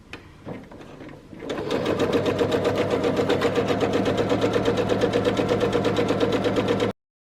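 A sewing machine runs steadily while stitching binding onto the raw edge of a quilt, its rapid, even mechanical whir starting after a few soft handling sounds and continuing close and loud until it stops abruptly.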